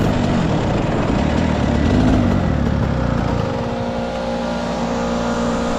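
A go-kart engine drones loudly and steadily around the Spa circuit, its pitch rising then dropping as the kart shifts through a hairpin, with no voices over it.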